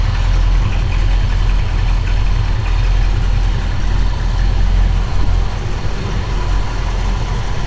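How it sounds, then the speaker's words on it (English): A 1966 Ford Mustang coupe with a 289 V8 idling under the hood, a loud, close, steady rumble with a throbbing low beat that holds throughout. "we'll start it up and let you hear it run underneath the hood too"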